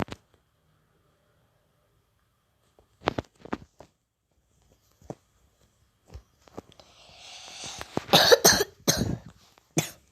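Quiet stretches broken by scattered coughs, then a louder burst of repeated coughing near the end, close by, with some rustling between.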